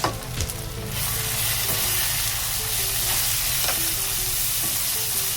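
Ground spices sizzle loudly in hot oil: turmeric, Kashmiri chilli, cumin and coriander. A steady, close frying hiss carries on throughout, with a few soft stirring scrapes near the start.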